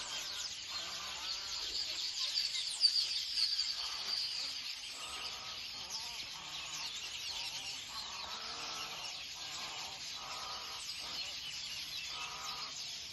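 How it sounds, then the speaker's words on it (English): Birds call repeatedly on Ngamba Island, Uganda, a series of rhythmic honking, goose-like notes at moderate distance over a steady hiss of insects and outdoor ambience. "The sounds of the birds are amazing."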